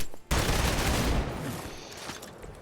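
Gunfire in the video game Marvel's Midnight Suns: an abrupt loud burst of rapid shots that starts suddenly and then trails off over a couple of seconds, heard alone.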